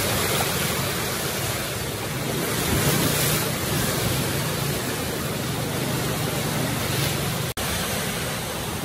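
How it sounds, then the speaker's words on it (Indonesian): A high tidal bore, the Seven Ghost wave on an Indonesian river, surges upstream as a loud, continuous roar of churning surf and rushing water, with steady wind noise over the microphone and no talking. "Ya Allah, sangat tinggi ombaknya."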